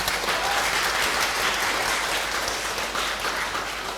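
Audience applause fills a church seminar hall at a parish Marian seminar, a dense, steady wash of many clapping hands that holds loud throughout and tapers slightly at the end.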